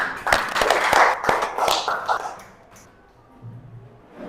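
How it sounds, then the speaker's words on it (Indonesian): A classroom of students claps together in a lesson, a quick, dense patter of hands lasting a couple of seconds before fading into quiet room tone. "Tepuk tangan dulu buat kita semua."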